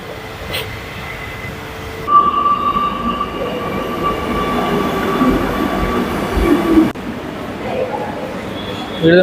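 A Kochi metro train at Edappally station, which links directly to Lulu Mall, gives a continuous rumble of rail running with a faint high wheel whine, swelling louder midway and then dropping off near the end.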